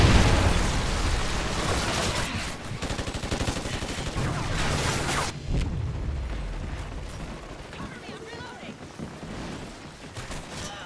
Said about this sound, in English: Friendly Trinity rocket sounded inbound.